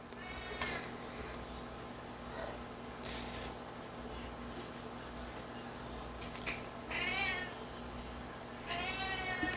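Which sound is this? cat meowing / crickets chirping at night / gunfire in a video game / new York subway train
cat meowing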